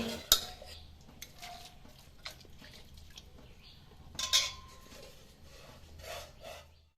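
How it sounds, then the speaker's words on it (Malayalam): Vermicelli and sago stirred into rapidly boiling milk in a pot for semiya payasam, with a few sharp utensil scrapes and clinks against the pot over a soft bubbling background. "ഈ വെട്ടി തിളച്ച പാലിലോട്ട് നമ്മൾ നേരത്തെ പിന്നെ പാലൊഴിച്ച് മാറ്റി വെച്ചില്ലയോ വെർമിസെല്ലും തവരിയും ഇതിലോട്ട് ഇട്ട് കൊടുക്കുകയാണേ"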